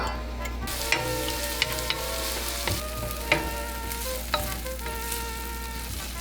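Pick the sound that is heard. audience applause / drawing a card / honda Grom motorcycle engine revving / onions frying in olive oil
onions frying in olive oil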